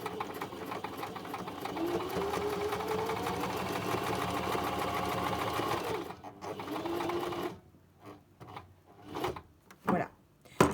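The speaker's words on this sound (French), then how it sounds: "Je pique mon aiguille pour vérifier que je suis bien où je veux coudre." Sewing machine topstitching a reusable velvet makeup remover pad with a lengthened stitch, running steadily for about six seconds, then stopping as fabric is shifted and handled with light knocks and rustles.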